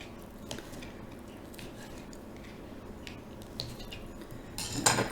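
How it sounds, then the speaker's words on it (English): Knife strikes and clinks against a plate or board while chopping cooked meatballs, a few scattered taps, then a louder burst of utensil clatter near the end. "We're just going to chop them up into smaller little pieces."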